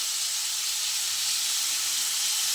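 Radish cooking in a pan gives off a loud, steady steaming hiss and sizzle that holds evenly throughout, with no talking.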